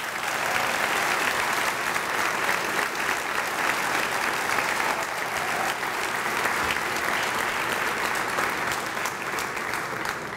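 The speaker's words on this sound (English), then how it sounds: "So one more round of applause for them" Sustained applause from a banquet audience honoring award recipients at a Champions for Children 2015 evening, dense and steady for the full stretch with no pauses or voices.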